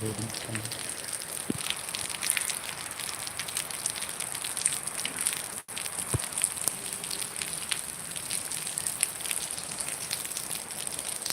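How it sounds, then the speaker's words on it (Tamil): Heavy rain with thunder in Padappai, Kanchipuram district, falling steadily as a dense, even hiss of drops on surfaces, close and continuous throughout, with a brief dip partway and no talk. "முப்பது நிமிடங்களாக கனமழை பெய்து கொண்டிருக்கிறது"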